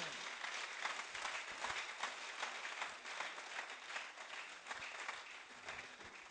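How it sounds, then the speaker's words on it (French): A church congregation claps and cheers in praise during a sermon, a steady, even wash of applause heard from some distance, faint and continuous throughout. "Est-ce que tu peux acclamer le Seigneur?"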